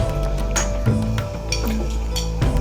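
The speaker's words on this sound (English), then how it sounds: "So I'll put 3 teaspoons of it into the pressure cooker" A teaspoon adding oil into a pressure cooker, with three light metallic clinks spaced about a second apart over a steady kitchen background hum.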